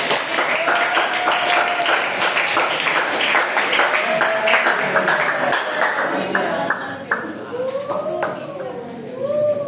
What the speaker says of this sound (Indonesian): Boleh kasih tepuk dulu dong.